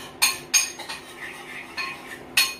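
A metal utensil clinks and scrapes against a bowl while stirring a corn and rice batter, several sharp knocks standing out over softer mixing.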